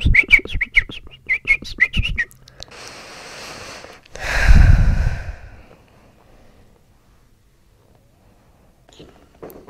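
In a chiropractic clinic, a person imitates a bird call, a breathy whistling trill that swells and fades alone after brief talk, with a loud airy burst at its peak.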